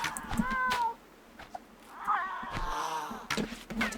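A video-game cat yowls and meows repeatedly, strained, wailing cries rising and falling with short hard hits between them, fairly loud and close, with no talking.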